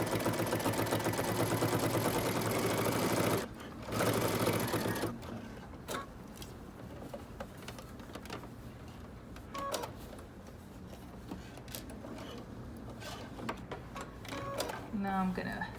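A home sewing machine runs a dress seam at a 3/8-inch allowance, a fast rhythmic mechanical clatter for the first few seconds, then quieter intermittent rattles and clicks as a voice talks over the work.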